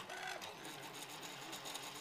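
A 3D printer runs at 30 mm per second while printing a replacement part, giving a steady, close mechanical whir with fluttering motor tones and no pauses.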